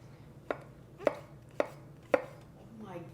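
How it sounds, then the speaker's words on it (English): A kitchen knife chops vegetables on a cutting board for a stuffed acorn squash dish, four sharp, evenly spaced knocks close by, then quiet. "we're just going to finely slice these, chop them actually"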